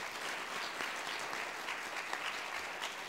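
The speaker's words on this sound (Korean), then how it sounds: "이 시간 동안 환영하면서 감사드리면서 한번 박수로 크게 환영하십시다" A church revival-meeting congregation claps loudly and steadily to welcome the pastor, a dense, sustained applause filling the hall throughout.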